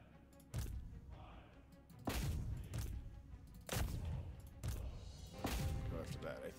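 Troops shooting during a siege battle in Total War: Warhammer 3, heard as a series of five or six heavy thudding volleys of gunfire spaced a second or so apart.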